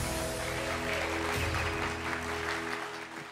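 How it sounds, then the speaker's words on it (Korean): An audience applauds at a Christian school principal competition finale on Korean television, welcoming a contestant's final stage. The steady clapping rides over sustained background music and fades slightly toward the end. "여러분 큰 박수 보내주시기 바랍니다."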